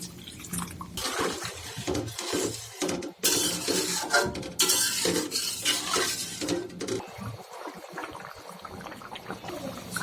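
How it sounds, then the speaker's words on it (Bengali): Broth goes into a pot of beef and potato curry amid clanking pot and utensil sounds, stirring and splashing liquid, close and uneven with sharp metallic knocks. "এখন আমি ঝোল দিয়ে দিচ্ছি।"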